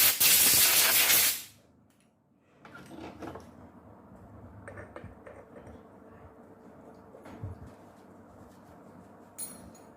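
A grease gun forces grease into a chainsaw sprocket, opening with a loud, close hiss of about a second and a half, then fading to faint clicks and quiet handling noise.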